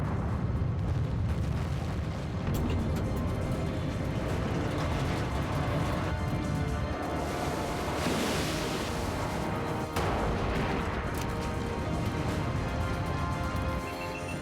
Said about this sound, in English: Just minutes after the first explosion, another detonation rips through the front of the Kursk.